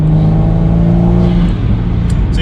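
A Toyota Supra engine with an upgraded metal turbo inlet pipe revs loudly and close, holding a strong droning tone that shifts pitch as it climbs and settles.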